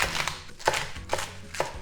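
Knife chopping cabbage on a cutting board, four crisp, evenly spaced cuts in a slow steady rhythm, close and clear with no talking.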